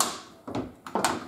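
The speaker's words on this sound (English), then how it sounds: "If I open the door" The door of an Austin A40 1960s-style pickup truck under panel repair is opened, giving two short metallic clunks close by as the latch releases and the door swings, with no speech.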